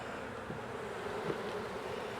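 A honeybee swarm buzzes steadily at a hive during hiving, a dense continuous drone of many wings, close and fairly faint, with no voices.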